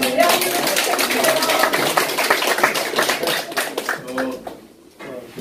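Forum audience breaks into dense, sustained applause, a steady wash of many hands clapping in a hall that thins and fades near the end.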